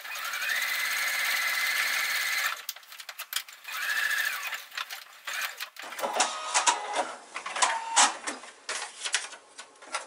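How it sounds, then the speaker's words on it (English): A sewing machine stitching a full seam line on foundation paper piecing, running in steady rapid bursts with short pauses between them, close and clear with no talk. "I'm going to return my machine to a 2 stitch, and I'm going to stitch this full line"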